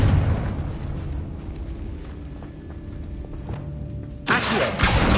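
A Confringo blasting spell in Hogwarts Legacy bursts as one loud, sudden explosion near the end, following a stretch of quieter game ambience.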